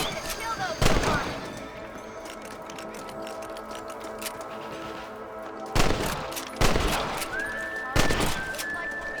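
Rifle gunfire in the Western video game Red Dead Redemption, a handful of loud sharp shots spaced a second or two apart, ringing over a continuous game ambience with horse and mechanical sounds.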